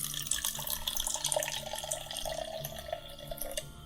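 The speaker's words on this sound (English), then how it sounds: "Let's go ahead and pour some Ecto Cooler into this cup" Ecto Cooler drink pours into a plastic cup in a close, continuous trickle with small splashes and drips, and no voice over it.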